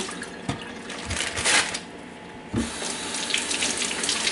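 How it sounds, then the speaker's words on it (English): Sweet potatoes being rinsed under a running kitchen tap, with a steady close stream of water hissing into a sink and splashing bursts as the potatoes are turned under the flow. "give them a rinse under water just to make sure they're clean"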